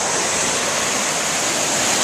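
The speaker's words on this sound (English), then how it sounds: "the way the waves look is because it gets shallow very quickly, which means that all the energy comes in" Ocean waves break steadily on a shallow beach in Destin, Florida, a loud, continuous rushing surf that fills the whole stretch without pause or voices.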